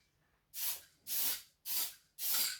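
Four short hissing sprays from an aerosol can of basting spray onto fabric, evenly spaced about half a second apart, close by with silence between bursts.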